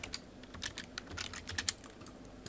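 Quick bursts of typing on a computer keyboard, light irregular key clicks close up and alone, entering a search term in a game editor.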